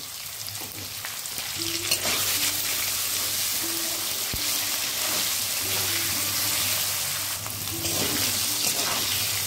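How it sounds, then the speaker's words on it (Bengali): Potatoes with salt and a pinch of turmeric fry loudly in a pan, a continuous close hiss and crackle with repeated short scraping stirs layered over it. "আলুটা আমি 2-3 মিনিট ভেজে নিলাম।"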